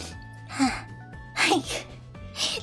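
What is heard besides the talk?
sneeze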